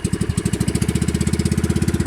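A boat engine runs steadily on a river with the throttle raised, throbbing loud and close in a fast, even knocking pulse for the whole stretch, with no voices.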